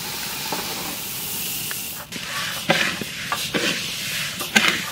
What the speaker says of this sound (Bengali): এখন আমি মুগের ডাল ভাজি নেব